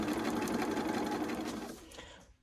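A sewing machine stitches pieced units for an Ohio Star quilt block in one close, rapid, whirring run that slows and stops at the end, no voices.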